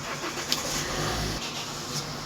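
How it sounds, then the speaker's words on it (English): A car engine starts outside in the open air, a steady mid-pitched running rumble with a couple of faint clicks, moderately loud and slightly distant. "Will someone just stop turning their car on?"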